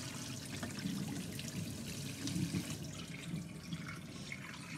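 Cool tap water runs steadily over boiled eggs in a sink or pot, a soft continuous trickle and splash at close range with no talking.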